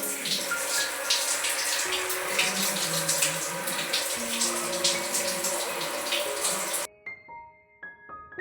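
Water from a tap runs steadily into a bathroom bucket or tub for bathing, a constant splashing rush that stops suddenly near the end and is followed by a few sparse drips and clinks.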